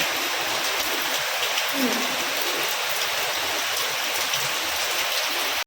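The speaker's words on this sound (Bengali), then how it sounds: "মানে বৃষ্টিটা এমনভাবে হচ্ছে, চারিদিক দিয়ে পুরো ছাদে জল" Heavy rain pours onto a rooftop terrace, a dense, steady hiss and patter that holds at an even loudness throughout with no breaks.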